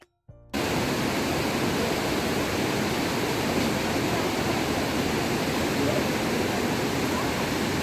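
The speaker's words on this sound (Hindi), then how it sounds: "फोर्ट के बाहर शोर मचाता ये शफाफ पानी का दरिया" A clear river rushes loudly outside Shigar Fort near Skardu, a dense, continuous roar of fast water that starts after a brief quiet moment and holds steady throughout.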